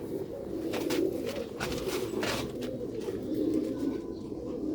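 Pigeons of an original pearl-eyed breed coo softly in a low, rolling murmur that repeats throughout, with faint chirps above and no talking.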